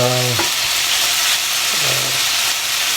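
Onions sizzle and fry steadily in a pan while being caramelized for Greek fava, a broad constant hiss with a couple of brief tonal stirring squeaks, no voices.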